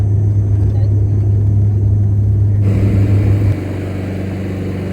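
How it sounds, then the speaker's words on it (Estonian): A propeller airplane brakes hard after landing on Flores island, its loud, steady engine drone filling the cabin before dropping sharply in level partway through. "Peller kõvasti pidurdab seda hoogu."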